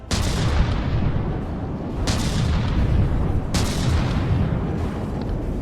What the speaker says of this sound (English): ABS is still firing away,